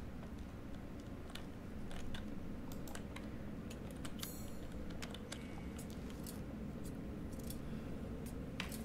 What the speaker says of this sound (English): Scissors, lovely.